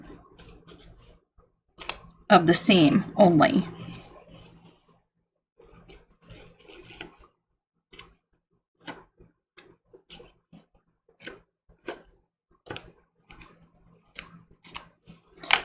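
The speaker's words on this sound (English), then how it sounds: "I'm just going to take that paper out" Foundation paper is torn away from a quilt block seam in short crisp rips, one loud burst early and then a sparse run of small snaps and crinkles close by, with a brief spoken phrase.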